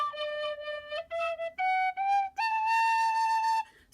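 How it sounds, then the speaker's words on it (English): A six-hole woodwind whistle like a tin whistle plays a short rising sequence of clear, breathy tones, several separate notes stepping upward and ending on a longer held pitch, close and alone. "you have your normal 6-finger 6 holes just like your tin whistle, and it sounds a lot the same"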